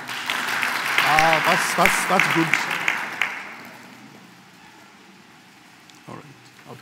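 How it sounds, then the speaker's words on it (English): Audience clapping at a cooperative society's annual general meeting, a burst of applause under a man's speech that fades away after a few seconds into quiet room sound. "And I think we clap for yourselves."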